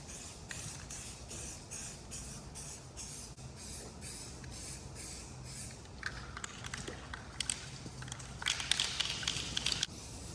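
Rust-Oleum Turbo primer sprays from an aerosol can onto a J24 sailboat mast as a steady, quiet hiss, pulsing in short bursts and growing louder toward the end.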